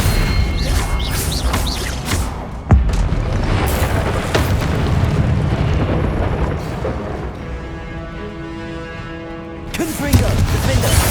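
Confringo blasting spell explosions in Hogwarts Legacy go off as loud booming bursts within dense, continuous game combat noise, with sharp blasts standing out near the start and end.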